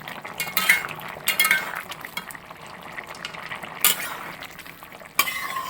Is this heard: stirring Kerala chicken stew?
yes